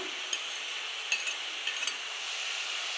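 Fried prawns go into a pan for thor chingri, banana stem cooked with prawns, and cook with a steady, soft sizzle under a few light scrapes and clinks of a spoon stirring, with no voices.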